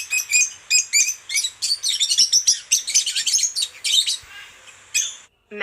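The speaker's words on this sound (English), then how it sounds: "Lovebird." Lovebird calls in a rapid series of shrill, high chirps and squawks, close and loud, running almost continuously before a brief pause and a final burst.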